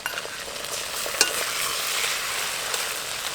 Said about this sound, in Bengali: আদা রসুন বাটাটা দেওয়ার পর খুব ভালোভাবে নেড়ে নেব।